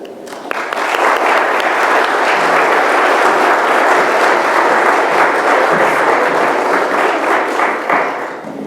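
A lecture audience at King University applauds to welcome a speaker, a loud, full burst of crowd clapping that rises quickly and holds steady for several seconds.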